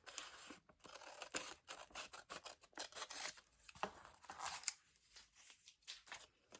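Scissors snip repeatedly through a magazine page in a quiet room, a close run of crisp, uneven cuts and rustling paper with short pauses between strokes.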